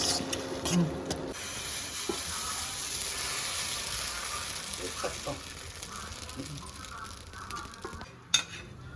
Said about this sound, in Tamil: இப்போ வந்து தோசை ஊற்றப்போம்